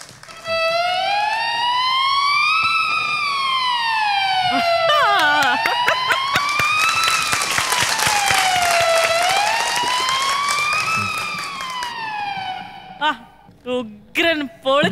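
Violin and flute imitate a fire engine siren on a comedy stage, gliding in long slow rising and falling wails, loud and up close, with audience applause rising beneath the middle and bursts of clapping at the finish.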